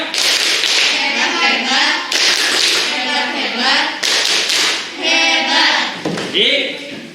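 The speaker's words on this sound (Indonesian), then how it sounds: "Kasih tepuk hebat" Students in a classroom perform a rhythmic clapping cheer, patterned bursts of claps and taps in repeated phrases mixed with children's chanting voices, loud and close.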